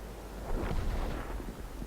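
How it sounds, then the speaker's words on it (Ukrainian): Tank cannon fire aimed at a Jagdtiger in a tank video game: a deep, rumbling boom that swells around the midpoint and rolls on in a steady low roar, fairly loud with no talk. "По яхтігру можна постріляти."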